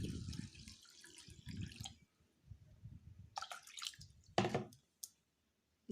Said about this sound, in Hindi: ये इसको मैं धो ली हूँ और धो के मैं इसको इसमें पानी डाल दूँगी।